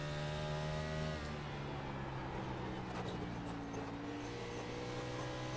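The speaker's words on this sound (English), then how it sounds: "He's on that throttle quick." Race car engine droning steadily at Bristol Motor Speedway in a racing game, sustained tonal roar shifting pitch as the throttle opens, with faint commentary voice under it.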